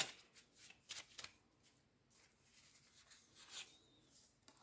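Cards drawn from a deck make soft, quiet sliding and flicking sounds, a few brief rustles spread irregularly over several seconds at close range.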